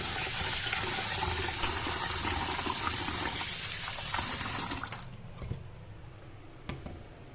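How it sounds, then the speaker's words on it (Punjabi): Water poured over lentils to wash them, a steady near gushing splash that cuts off partway through, leaving quieter faint handling noises. "ਫਿਰ ਪਾਣੀ ਪਾਵਾਂਗੇ"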